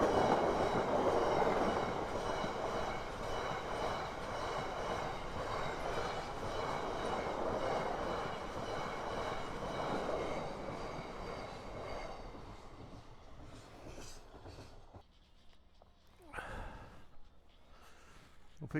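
A long cargo train rumbles past close by with loud, steady rolling wheels and clattering wagons, then fades away, leaving quieter surroundings and a few short noises.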